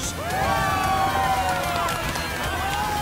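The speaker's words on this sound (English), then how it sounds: "Let's give our worthy contender another thunderous round of applause!" Crowd cheering and applauding in the Final Fantasy 7 Rebirth video game, a dense, sustained roar of many voices with whoops and shouts rising over it.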